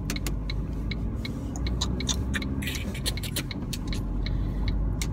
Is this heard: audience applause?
no